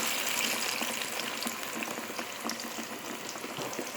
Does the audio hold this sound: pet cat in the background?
no